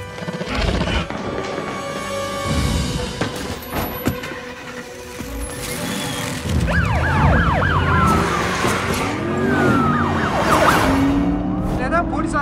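A police car siren wails in a movie scene, rising and falling sweeps over traffic and engine noise, loud and close, with voices talking beneath it.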